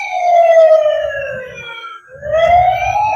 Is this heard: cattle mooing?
no